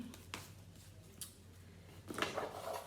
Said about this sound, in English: I'm just gonna finish shuffling here